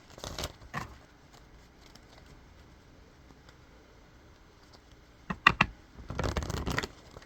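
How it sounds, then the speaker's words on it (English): A deck of playing cards is shuffled in two quiet bursts, a brief riffle near the start and a longer flurry of crisp card snaps toward the end, with near silence between. "We're going to give it a proper shuffle on camera."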